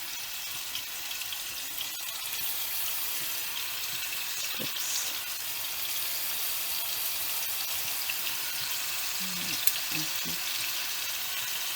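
Thin pieces for a chicken shawarma wrap fry in a pan with a constant bright hiss and sizzle, close and steady, with a few faint clinks in the background.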